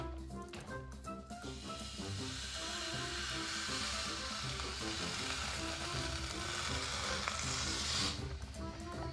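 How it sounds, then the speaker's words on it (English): Hot flat iron plates press down on sopping wet hair and give a loud, continuous sizzling hiss with steam. A few sharper crackles come at the start, and there is no talking. "those hot burning plates hits that sopping wet hair"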